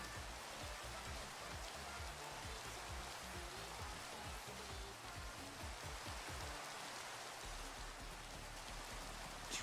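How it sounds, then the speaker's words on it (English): Rain in the video game Minecraft, a steady dense hiss of falling drops that holds even throughout, with no voices over it. "It's raining and it's dark."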